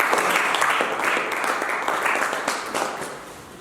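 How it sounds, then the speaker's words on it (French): A church congregation applauds after a sermon, giving loud, steady clapping that slowly fades out. "Acclame,"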